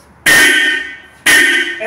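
A Hella aftermarket horn fitted to a Volkswagen Jetta sounds two loud, bright blasts, each about a second long and separated by a short gap, with no other sound around them.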